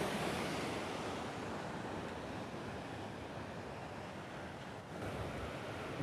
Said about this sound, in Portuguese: Imagens lindas aqui da Cachoeira de Missão Velha